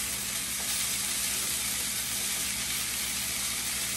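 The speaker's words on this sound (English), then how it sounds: "We're going to cook this for just a minute or two, just enough to get a little bit of heat on that corn and peppers." Corn and peppers frying in a pot, a loud, unbroken close sizzle holding steady throughout with no talk.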